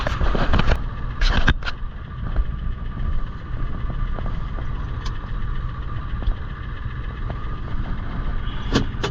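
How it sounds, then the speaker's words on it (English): A truck engine running at high idle while warming up before a drive for fuel, a steady continuous drone with a few brief louder knocks and clicks near the start and end, no talking. "truck's still on high idle"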